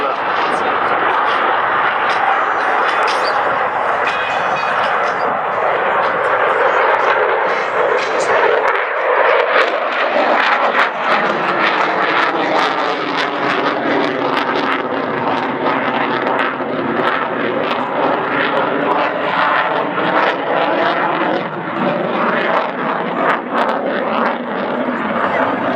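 An Italian Air Force Eurofighter Typhoon jet performs at the Radom 2015 air show, a continuous loud jet roar that shifts in pitch as it sweeps past, with voices heard over it.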